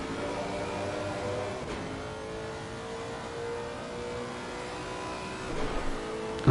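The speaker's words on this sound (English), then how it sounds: "You just listen to how that car is at the moment" Race car engine at Suzuka's Spoon curve, humming steadily with gear-related pitch sweeps, heard from onboard as a continuous mid-loud drone, rising briefly near the end.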